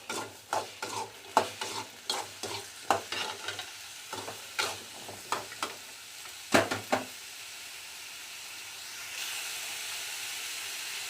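Ground paste for a broad bean curry fries in a little oil in a clay pot, with a steady soft sizzle broken by a regular series of sharp scraping stirs, then a brighter hiss swelling near the end.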